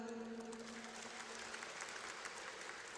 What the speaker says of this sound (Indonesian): Coba saya dengar dulu tepuk tangannya mana?